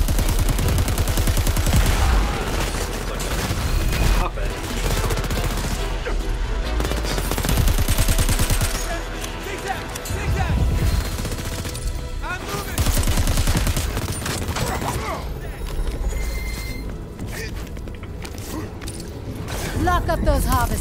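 Enemy gunfire in the video game Crackdown 3, dense bursts of automatic fire and explosions crackling continuously and loudly across the whole stretch over game music and effects.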